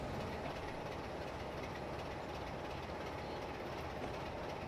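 A freight train rolls along rails in a train simulator on a snowy route between York and Peterborough, a steady low rumble with faint rhythmic clatter, quiet and continuous with no voices.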